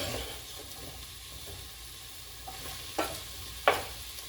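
Onions and green peppers hit a pan for a lentil coconut curry stew, sizzling softly and steadily, with a couple of sharper stirring clinks near the end.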